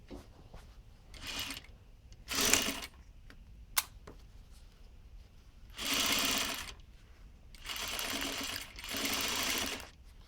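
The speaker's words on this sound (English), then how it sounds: "So I'm going to start to sew" A sewing machine stitches a garment waistline in several short runs of a buzzing, whirring motor, with soft handling clicks and fabric shifting in the quiet pauses between, close and clear.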